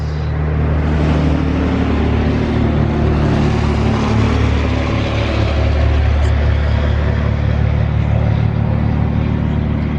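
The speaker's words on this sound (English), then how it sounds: "Let's let the truck pass." A truck goes by on a road, its engine a loud, steady low rumble that fills the whole stretch close at hand, with no gaps and no talk.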